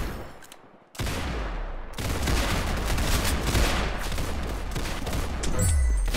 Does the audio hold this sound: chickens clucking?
no